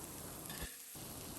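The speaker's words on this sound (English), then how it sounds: "on high heat, just give it a good stir and incorporate all of those ginger" Ridge gourd stir-frying on high heat with ginger and garlic, a faint, steady hiss of sizzling in a pan, briefly dipping quieter partway through.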